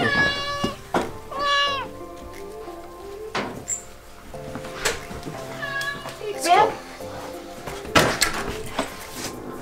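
A pet cat meows several times at close range, its calls rising and falling amid household clatter such as cupboards or doors, with people talking throughout.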